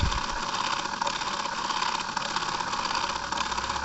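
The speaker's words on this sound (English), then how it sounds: "This is a 12 volts DC motor running on 3 volts DC, just like my Mega Blaster Junior's rotator motor." A small 12-volt DC motor running on only 3 volts drives a pulley and worm gearbox on a toy rotator, giving a steady, close whirring hum with a faint ratcheting rattle throughout, no voices.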